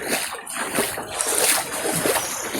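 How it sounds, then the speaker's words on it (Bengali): Floodwater pours and splashes through an overflowing small drain, a continuous close rushing and trickling sound with no clear talking. "ড্রেন ফ্লাড হয়ে গেছে গা, ড্রেনের জল এদিক দিয়েই যাইতেছে টোটালি"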